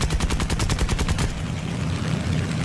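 A rear gunner's machine gun fires from the tail of an aircraft in War Thunder, a fast rhythmic burst of about a dozen loud shots over steady engine drone, then the firing stops and only the engine roar continues.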